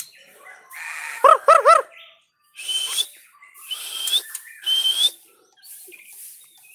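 A white-rumped shama songbird sings in short bursts of clear whistled phrases and rich harmonic notes, separated by brief pauses, heard close and fairly loud.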